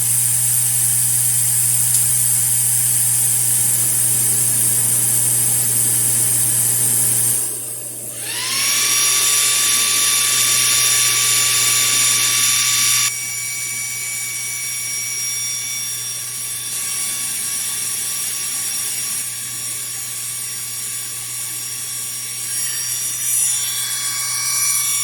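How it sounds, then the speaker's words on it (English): A laser marker etching stainless steel coated with mustard, running with its air assist and exhaust fan: a loud steady high whine and blowing hiss that shifts pitch and level partway through, continuing throughout. "I will turn on the air assist and the exhaust and then send the code over."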